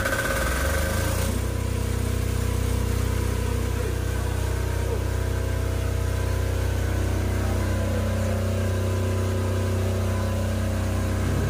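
A generator engine runs with a steady low mechanical drone after a louder starting burst, continuing evenly at moderate distance with no speech.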